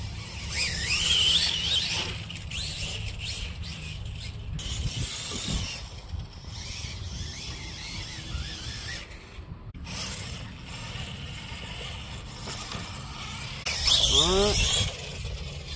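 A Losi Mini LMT RC monster truck with a Furitek brushless motor whines and revs as it drives through tall grass, rising squeals and rustling surges over a steady outdoor background, with a person talking.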